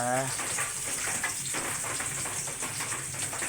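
Onions sizzling in a hot pan, a steady broadband frying hiss filling the clip with a brief voiced sound at the start.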